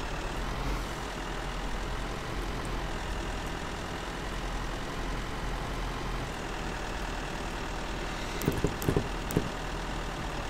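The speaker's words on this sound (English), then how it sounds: "What the heck was that noise? It's a car?" A vehicle engine in the survival game Withstand drones as a steady low rumble and hum throughout, fairly constant in level, with a few faint clicks near the end and no speech.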